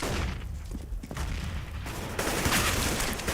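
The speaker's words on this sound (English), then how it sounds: "Headshot onto Shroud from Apex. That Mac 10 is paying for itself" Rapid bursts of gunfire fill a Counter-Strike: Global Offensive match on the Cobblestone map, including a Mac-10 submachine gun, loud and dense with overlapping shots and no pause.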